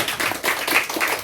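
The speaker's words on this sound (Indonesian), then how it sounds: "Tepuk tangan atuh." A brief burst of audience applause at a graduation ceremony for a bridal makeup course, uneven clapping rising and falling for just over a second, with no talk over it.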